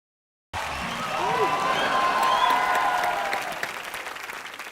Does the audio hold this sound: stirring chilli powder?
no